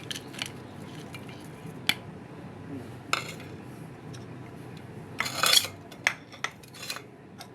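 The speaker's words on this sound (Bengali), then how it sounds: "এখন শিলপাটায় বেটে নিব" Onion, shrimp and chili are ground on a stone grinding slab, with sharp scraping and clacking strikes at irregular intervals over a quiet background, growing busier toward the end.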